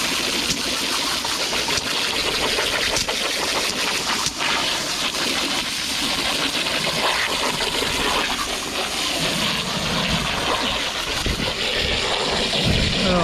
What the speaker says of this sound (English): I just take my garden hose with full jet stream